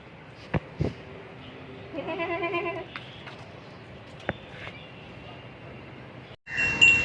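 A goat bleats at a Bakra Mandi livestock market, one wavering cry close by over a murky background hum, with a sharp bump and a sudden louder noise at the end.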